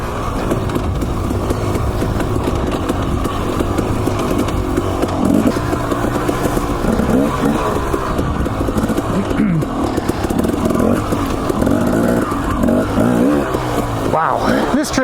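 A dirt bike engine revs steadily and loudly throughout a ride along a mountain trail through Idaho meadows and lakes, continuous close engine drone with wavering pitch and no speech.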